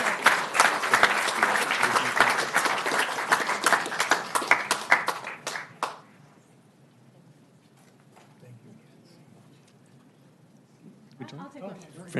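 Council chamber audience at a city council meeting gives a lively round of applause for six seconds, then the room falls quiet, with a few faint voices near the end.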